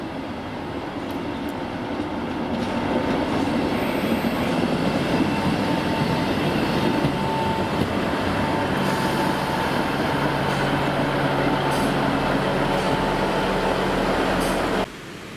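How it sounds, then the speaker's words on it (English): A train on a Devon branch line rumbles in steadily with rolling wheel noise and faint squeals, growing louder after a couple of seconds, then cuts off near the end. "The southbound train has now arrived"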